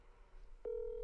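A phone call button is pressed, answered by a single steady electronic tone that rises in abruptly and holds clear and loud over faint room noise.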